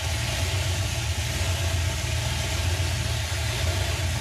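A 1950 Ford F6 dump truck engine idles in a steady, even, low rumble that holds at a constant level with no talk over it.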